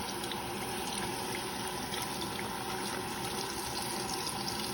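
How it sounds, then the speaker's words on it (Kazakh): Water pours steadily over a plastic toy ball being rinsed in a sink, a continuous splashing stream with no talking. "Болды, төк суды."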